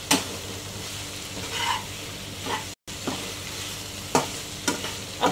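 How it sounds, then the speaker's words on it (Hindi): Chicken with green chilies frying in a pan over a medium flame, giving a steady close sizzle with a few sharper stirring scrapes and one brief dropout partway through. "फ्राई करेंगे जब तक कि हमारी मिर्ची फ्राई नहीं हो जाती"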